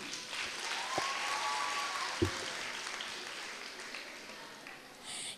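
An audience applauds a dance group from a dance studio at a children's music festival, a steady wash of clapping held at moderate level throughout.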